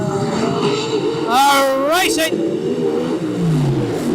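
Speedway race cars at Greenstone Park accelerating toward the green flag for a feature race, a loud continuous engine roar with rising revs, under an announcer's commentary.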